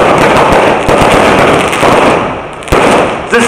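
Fireworks crackle in a dense, loud rapid-fire burst of popping that continues without a break, set off at an outdoor public event with legislators and city councillors.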